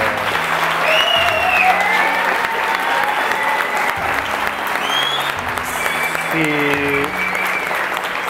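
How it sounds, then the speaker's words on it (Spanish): Steady, full applause from a book-event audience for a crime novelist, sustained and loud throughout with voices and whistles faintly cutting through the clapping. "se merece un súper aplauso"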